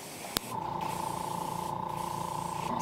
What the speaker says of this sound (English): So we're going to paint this whole bait purple. Metallic purple.